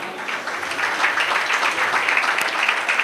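Church audience applause during a marriage counseling sermon, a continuous wash of many people clapping at a steady, fairly loud level.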